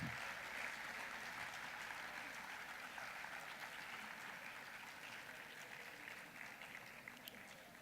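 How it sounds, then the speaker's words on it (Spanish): Steady applause fills a convention hall in Cartagena as an audience welcomes the president of Colombia at a world free-trade-zone congress, a continuous wash of clapping that slowly thins over several seconds. "Recibamos con un fuerte aplauso al señor presidente de la República"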